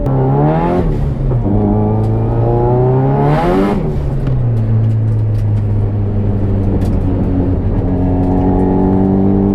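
A car engine revs and rises in pitch through gear changes on a race track, then settles into a steady loud drone as it drives along.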